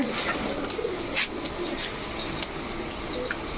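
Racing pigeons coo softly at a pigeon seller's farm, low murmuring calls blending into a busy, noisy background with scattered faint chirps.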